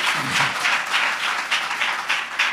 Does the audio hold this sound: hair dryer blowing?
no